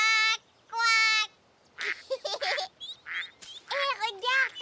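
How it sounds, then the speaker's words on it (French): Cartoon ducks quack in a few short, bright nasal calls in a French Caillou episode, alternating with brief stretches of speech-like voices, sounding close and clear. "Caillou trouvait que les canards parlaient un drôle de langage."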